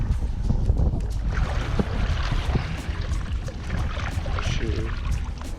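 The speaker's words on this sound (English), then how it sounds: "now we can do some reverse side paddles for a 360" Water sloshes and splashes as a paddle digs in with reverse side strokes beside a Thursosurf Water Walker 132 inflatable board, close and continuous with wind buffeting the microphone.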